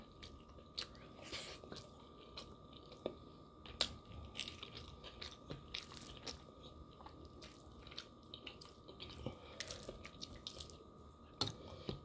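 Close, steady chewing of green chili with rice, made of soft wet mouth sounds and small crunchy bites at an irregular rhythm, with no talking.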